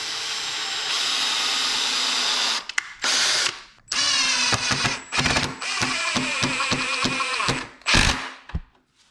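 A power drill pre-drills thin wood for an outboard motor stand in several bursts, stopping and starting, with grinding and clicking between runs, close and fairly loud.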